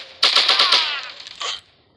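Automatic gunfire in the mobile shooter game Cover Strike, a rapid burst of about six sharp shots followed by a shorter trailing pop, loud and crisp with quick decay.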